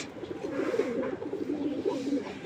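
Giribaj pigeons at a home loft coo in a steady low rolling stream, several birds overlapping continuously, close and soft with no talk.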